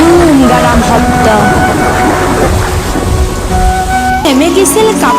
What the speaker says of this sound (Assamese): বতাহ ধুমুহা বৰষুণৰ লগতে মেঘৰ গাজনি যি গুলুম গালাম শব্দ